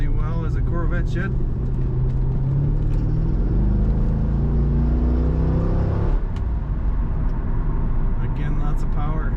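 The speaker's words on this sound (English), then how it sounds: "Fun to push that throttle down in this car." A 2004 Chevrolet Corvette coupe with a see-through removable roof accelerates under throttle, its steady loud engine drone rising in pitch before dipping and continuing, heard from inside the car.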